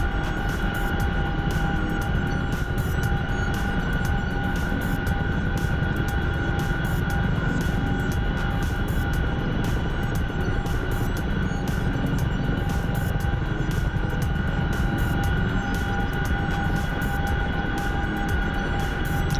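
Propeller-driven fixed-wing aircraft in a war game drones loudly and continuously, with a steady engine hum and a sustained tonal whine, close and unbroken throughout.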